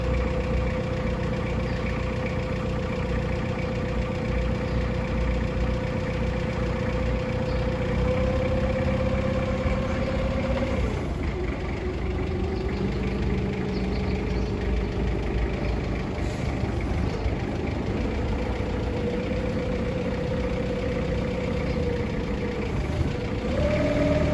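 Komatsu 3-ton diesel forklift with automatic transmission, solid tires and a sliding fork carriage, its engine running steadily at idle with a continuous mid-pitched drone and tonal whine that shifts pitch partway through, near and loud, no voices.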